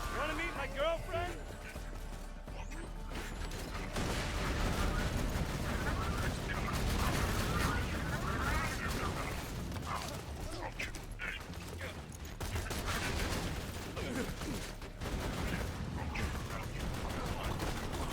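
Game gunfire from the Becca weapon in Borderlands 2, a busy stretch of repeated shots and mechanical weapon noise mixed with explosions, continuous and loud, with someone talking over it throughout.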